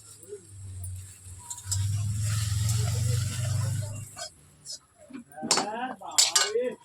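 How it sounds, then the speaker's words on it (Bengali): Fried okra tipped out of a cooking pan into a bowl: after a steady low hum, several sharp metallic clinks and scrapes of utensil against dish ring out close by in quick bursts near the end. "এই যে ভাজা হয়ে গেছে, এর মধ্যে ঢেলে নিয়েছি।"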